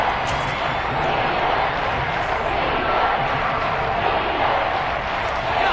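A roaring NFL stadium crowd at a Seahawks home game against the Patriots, a loud, sustained wash of noise in the red zone that stays steady from start to finish.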